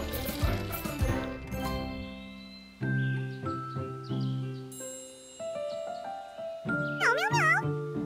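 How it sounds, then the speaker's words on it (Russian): Cartoon cat meowing in a children's animated show with wooden toy characters, a few high, wavering meows near the end over bright chiming, tinkling music. "Кошечка Мяу гуляет по лесу."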